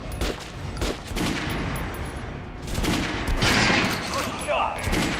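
Rapid bursts of gunfire ring out at a shooting range in the video game Metro: Last Light, dense loud volleys filling the whole stretch with little pause.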